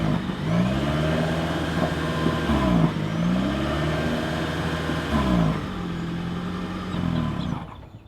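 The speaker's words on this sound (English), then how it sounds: "As always, here is that exhaust clip." A 2026 Toyota Corolla Hybrid's exhaust, heard as a steady mid-pitched engine hum with three gentle rev swells that rise and fall over several seconds, fairly close and without talk.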